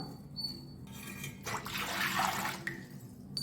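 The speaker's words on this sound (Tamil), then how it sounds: "ஒரு பாத்திரம் எடுத்துகிட்டு அதில் வந்து நம்ம குடிக்கிற தண்ணி சேர்த்துக்கலாம்" Drinking water is poured into a cooking vessel in a home kitchen, a close splashing gush rising to a fuller pour in the middle, with faint trickles before and after.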